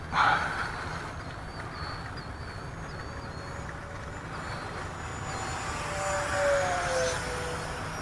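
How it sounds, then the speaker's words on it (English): Freewing Rebel V2 electric RC jet on a 4S battery taking off at full throttle from a flying field: a steady, thin ducted-fan whine that rises slightly and carries on, moderately distant, with no talk. "Full throttle, back pressure, and we're up and away."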